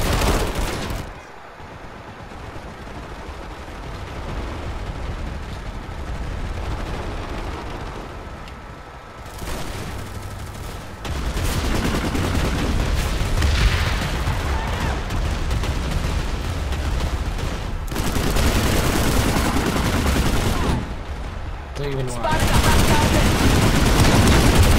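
Gunfire in the PlanetSide 2 video game, dense bursts of automatic weapon fire and explosions rattling loudly in sustained volleys with brief gaps, someone talking over the battle.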